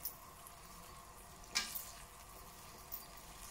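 Pork cheeks go into a hot pan and sizzle softly, with one louder hiss when a cheek lands and a few smaller spits around it, and no talk over it.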